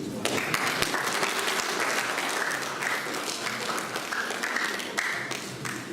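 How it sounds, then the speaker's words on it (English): A community event audience in Epsom claps in a sustained, dense round of applause for the event team, steady and fairly loud throughout, with some voices mixed in. "so let's give them another round of applause"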